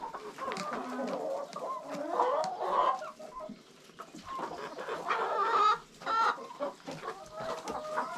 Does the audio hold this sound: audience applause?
no